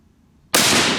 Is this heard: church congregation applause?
no